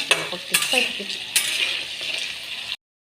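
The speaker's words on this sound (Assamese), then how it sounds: "এইফালে আলুখিনি ফ্ৰাই হৈ আছে" Oil sizzles steadily as potatoes fry in a pan, with a few sharp scrapes and stirring clinks from a utensil, ending abruptly.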